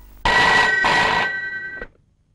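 A telephone bell rings loudly and close by in two long trilling bursts, then cuts off with a soft click, with no voices over it.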